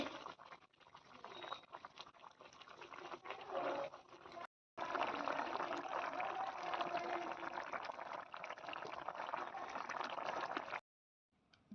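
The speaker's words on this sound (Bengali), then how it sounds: "দেখতেই পাচ্ছ তরকারিটা ফুটছে।" Potato and pointed gourd curry with half-ground poppy seeds bubbling in a pot, a steady close simmering hiss with soft popping that runs continuously with two brief gaps.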